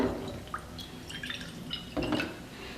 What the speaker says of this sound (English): So I have a jug of distilled water and I put it in this bowl.